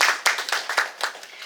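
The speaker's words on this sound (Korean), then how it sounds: "따뜻한 박수 부탁드립니다" An audience at a panel discussion claps to welcome the panelists: a short burst of separate, slightly uneven hand claps from a modest group, close and clear.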